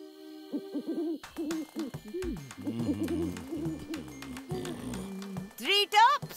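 Cartoon owl hooting in a tale set in Tinga Tinga, its voiced calls rising in pitch near the end, preceded by animated character talk.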